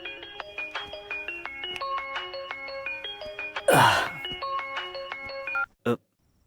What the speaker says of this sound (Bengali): রোশনি, এখন তুমি ফোন করছো?